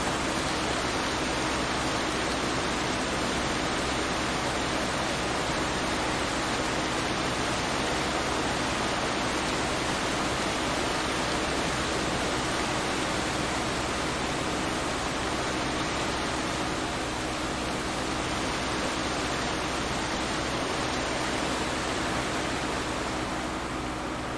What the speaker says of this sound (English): I could take a shower in these waterfalls.